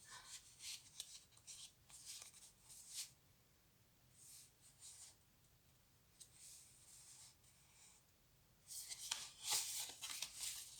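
Tarot-style cards slid and shuffled through the hands while one is drawn from the deck, soft papery rustles and flicks in short bursts, close and quiet.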